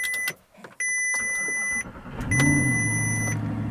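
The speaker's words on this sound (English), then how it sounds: "Lovely V8 rumble." Rebuilt V8 engine in an Audi R8, heard alongside electronic chimes and beeps, then turning over and settling into a deep, loud rumble.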